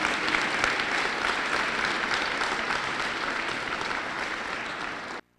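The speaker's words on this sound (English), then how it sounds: "Please join me in a round of applause for all of our elected officials here this" Audience applause for elected officials at a high school district address, a dense steady wash of clapping from a crowd that holds level and then cuts off abruptly near the end.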